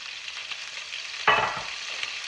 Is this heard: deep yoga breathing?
no